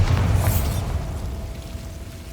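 The Bombarda blasting spell in Hogwarts Legacy goes off in a single deep, booming explosion, with a bright crackling burst at the start that rumbles and fades out.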